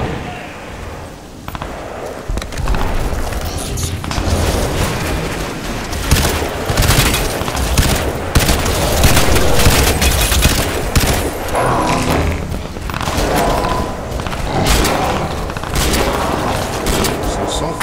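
Sustained gunfire from a weapon in the video game Crysis 2, with dense bursts and heavy booming impacts running loud throughout, a voice talking over parts of it.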